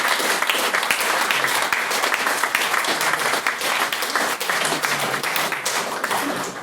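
A debate hall audience gives a round of applause for the guest chair: loud, continuous clapping from many people, close and even, with individual claps flickering through the sustained roar.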